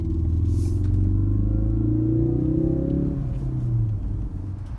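Engine of a 2017 Honda Civic Type R revving as the throttle is blipped, a loud, close, deep rumble rising and falling in pitch before settling lower, with no talk.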